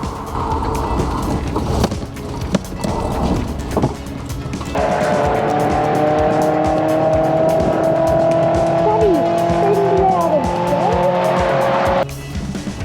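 A barra-swapped Ford EL Falcon drift car drives into a track turn, slides out onto a concrete apron and spins. Its engine drones loud and close, and its tyres let out a long, sustained squeal through the slide.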